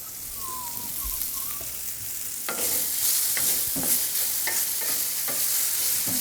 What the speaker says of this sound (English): I just need to brown the meat.